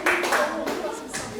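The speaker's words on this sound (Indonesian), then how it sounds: "Tepuk tangan yang meriah buat kelompok terakhir kita pada hari ini." A classroom applauds its last group of the day with a short burst of clapping from many hands, loud at first and quickly tapering off.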